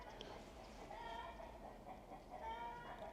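Faint chickens clucking in the background, soft and somewhat distant, with a few brief calls rising over low ambient noise.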